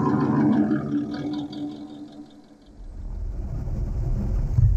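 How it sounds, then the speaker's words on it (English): A 1950 Studebaker Commander V8 with overdrive transmission running, a steady engine hum that dips briefly, then rises back into a deeper, louder low rumble. "It's got a V8 engine and overdrive transmission, so it's smooth"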